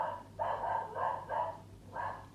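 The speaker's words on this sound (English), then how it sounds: "Perhaps hear my dog barking in the background." Dog barking a few times in quick succession, a series of mid-pitched, somewhat muffled barks coming from the background indoors, with a steady low hum underneath.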